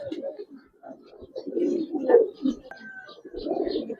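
A pair of young Giribaz pigeons gives repeated low, throaty coos in short pulsing phrases at close range, with soft gaps between calls.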